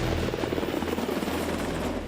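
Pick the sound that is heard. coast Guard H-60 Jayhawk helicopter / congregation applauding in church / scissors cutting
coast Guard H-60 Jayhawk helicopter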